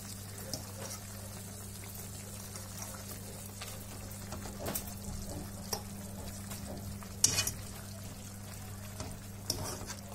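Food cooking in a pan stirred slowly by hand, soft scrapes and clicks of the utensil over a faint, steady sizzle and a low hum, quiet and close.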